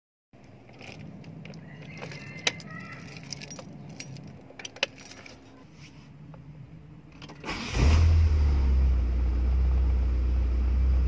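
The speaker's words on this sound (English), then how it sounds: "Let's start the car." Keys jangle near the ignition of a carbureted Proton Wira with a freshly overhauled distributor. After a quiet pause the engine cranks briefly and catches, then settles into a steady, loud, low idle.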